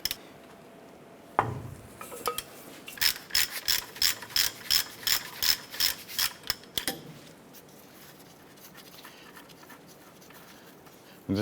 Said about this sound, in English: Using a 7/8 socket and ratchet, we're going to go ahead and loosen our lower ball joint nut.